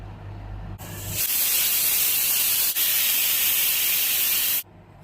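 A pressure cooker cooking potato curry releases its whistle as a loud, steady rush of steam lasting about four seconds, starting abruptly and cutting off sharply, with no voices.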